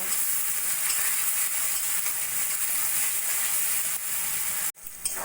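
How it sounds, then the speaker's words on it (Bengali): Onion with ginger-garlic paste, salt, turmeric and cumin powder fries in a pan, a steady close sizzle and hiss with light stirring that cuts off abruptly near the end. "পরিমাণ মতো নুন হলুদ জিরের গুঁড়ো আর এক চামচ মতো আদা রসুন বাটা দিয়ে ভালো করে মশলাটা কষিয়ে নেব"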